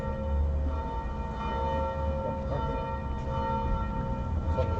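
Church bells ring continuously at a steady moderate level, their sustained tones layered over a constant low hum, with no voices over them.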